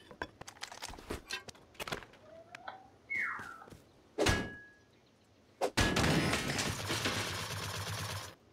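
Gunshots fired at walls in a video game, a scatter of sharp isolated cracks and thuds with a few louder impacts, followed by a sustained noisy rush toward the end.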